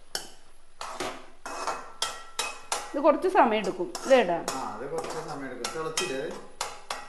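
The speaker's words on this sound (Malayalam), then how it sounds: "ഇടയ്ക്കിടയ്ക്ക് ഇതിലൊന്ന് ഇളക്കി കൊടുക്കുക" A spoon stirs food in a cooking pot in a village family kitchen, giving repeated scraping clinks and clatters of metal against the pot while a person talks over it.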